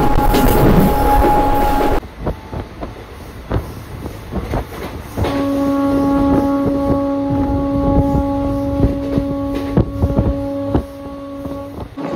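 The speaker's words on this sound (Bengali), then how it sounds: "বন্ধুরা আমার ট্রেন এখন ক্রস করছে হিজলি" Santragachi–Puri train 02837 passing Hijli, heard from on board as a loud continuous rumble and rattle, with a sustained horn-like tonal hum joining partway through and holding to the end.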